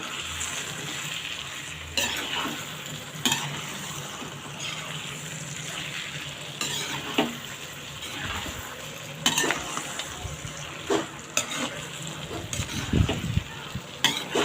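Farm chicken curry frying in a pan is stirred with a spoon, a steady sizzle running throughout while clanking scrapes and stirring strokes come at irregular intervals.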